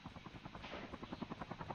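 A helicopter in the mobile shooter game Call of Duty Mobile, its rotor giving a fast rhythmic thudding chop under a steady buzzing whine, loud and close throughout.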